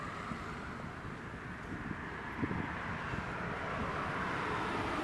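An airliner taxiing in at Leeds Bradford Airport makes a low, steady engine rumble with wind across the microphone. It holds at a fairly constant level.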